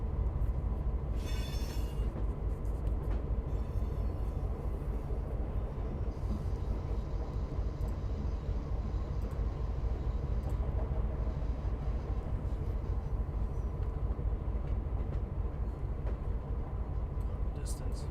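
BNSF freight train in the Run 8 rail simulator, a continuous heavy low rumble of locomotive and rolling cars with a brief hiss early on, steady and close for the whole stretch.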